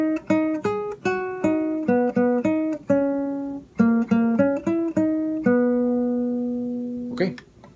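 A guitar picks out the lead phrase of a song, a quick run of plucked single notes in an uneven melodic rhythm ending on a long sustained note, close and clear, with a brief noise at the end.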